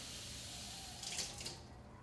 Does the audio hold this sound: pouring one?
yes